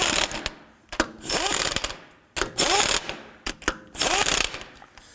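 A hand ratchet snugs the lug nuts on a 2005-2009 Subaru Legacy front wheel in a crisscross pattern. Several close, loud bursts of rapid clicking are separated by short pauses, with no talking.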